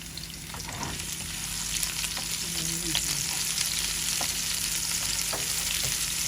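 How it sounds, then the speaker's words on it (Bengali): Garlic and onion sizzle in hot oil with cumin as a tempering for a chicken and potato curry. A steady, fairly soft frying hiss runs throughout, with occasional faint stirring clicks and no talk. "এখন বাগাতে মনে হয় রসুন দিয়ে দিলাম কটা পেঁয়াজও দিয়ে দিলাম"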